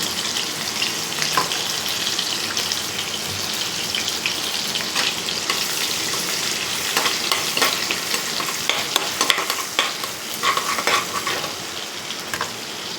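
Cumin, ground green chili and ginger fry in hot oil in a pan, giving a steady close sizzle with stirring scrapes and crackles throughout, and no voices.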